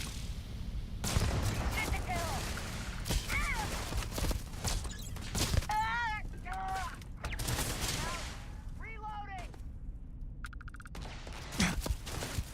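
Gunfire from the video game Starfield at an enemy encounter, a run of scattered shots and bursts mixed with other game sounds, steady and moderately loud throughout.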